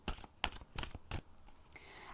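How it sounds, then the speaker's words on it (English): Soft, brisk riffling and snapping of a tarot deck being shuffled, a few quick bursts that are faint and close, with no talking. "we'll go ahead and shuffle the deck"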